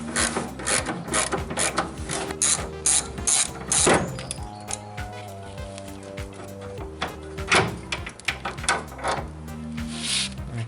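A ratchet works loose a bolt on the fuel tank of a rusty Nissan 350Z drift car: rapid, close clicking bursts in repeated strokes, with metallic rubbing and brief pauses between runs.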